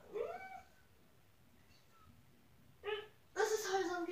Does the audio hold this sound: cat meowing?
yes